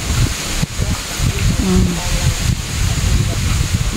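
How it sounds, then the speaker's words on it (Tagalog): Strong wind blows steadily across an open hilltop garden, a constant rushing roar with low buffeting rumble on the microphone, and faint voices mixed in. "Ang lakas ng hangin dito oh."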